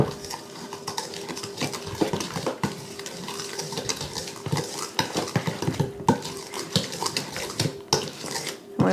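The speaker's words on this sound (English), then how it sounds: "And whisk that all together." Apple fritter batter whisked in a bowl, a brisk continuous scraping and clinking of the whisk against the bowl with an uneven rhythm, close and moderately loud, with no talking.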